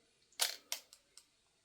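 A 35mm shutter-priority film camera clicks through its shutter and mechanism, one sharp close snap followed by three quicker fading clicks in a quiet room.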